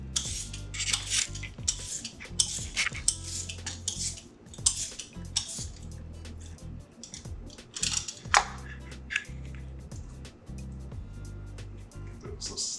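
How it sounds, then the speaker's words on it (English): Yam skin being peeled off by hand in a home kitchen, with repeated soft scraping and rubbing strokes mixed with light clinks of utensils, close and moderately loud, under a steady low background hum. "I'm just gonna peel off the skin."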